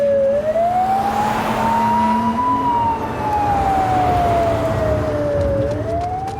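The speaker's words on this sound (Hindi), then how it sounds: "एम्बुलेंस आ रही है, एम्बुलेंस आ रही है मेरे भाई।" An ambulance siren wails loudly and nearby, its pitch rising and falling slowly over the rumble of traffic.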